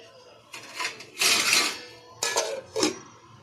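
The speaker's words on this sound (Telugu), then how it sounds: "మూత పెట్టేద్దాం." Metal lid set onto a cooking pot on a stove while tamarind stew (pulusu) for fish heats, giving a few sharp clanks and scrapes at close range, spread across a short span.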